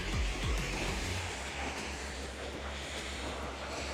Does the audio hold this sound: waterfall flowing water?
yes